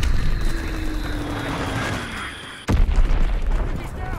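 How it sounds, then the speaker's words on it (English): Enemy recon aircraft strafing in Call of Duty WW2 multiplayer: a droning engine with a falling whine, then a sharp boom and a burst of rough, loud gunfire-like rumble, with game voice lines mixed in. "Enemy recon aircraft observed. Fighter pilot inbound, strafing the target."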